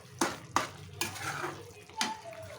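A spoon stirs mushroom curry masala in a pot, giving four distinct scraping strokes at uneven intervals with a soft sizzle between them, close but fairly quiet.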